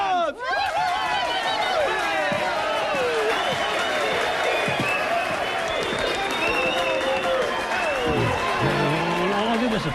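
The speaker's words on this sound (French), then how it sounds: "on l'applaudit bien fort." A film crowd applauds loudly and continuously at an evening event, the dense clapping layered with overlapping voices and chatter.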